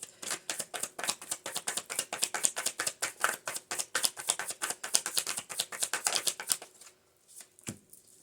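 A deck of tarot cards is shuffled close up in a rapid, rhythmic riffle of crisp flicks for several seconds, then stops, leaving a faint tap or two in near silence.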